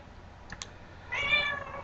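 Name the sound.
cats meowing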